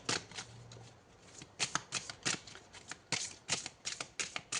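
Oracle cards are shuffled by hand, a quick series of close, crisp riffling flutters in uneven bursts, with no speech over them.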